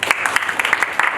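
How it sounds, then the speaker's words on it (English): Audience at a national business meeting in Pune applauding active members, a brief burst of many hands clapping, fairly loud and dense, with no voices over it. "Give a big applause for all these people"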